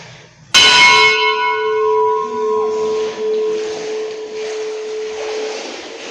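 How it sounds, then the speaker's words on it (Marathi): A bell at Bhorgiri is struck once, loud and close, then rings on with a bright, shimmering tone that slowly fades over several seconds. "घंटी वाजवा एकदा."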